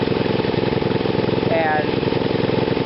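An engine fitted with a GEET reactor runs close by with a steady, loud, pulsing idle, its rapid rhythmic chugging continuing evenly without pause.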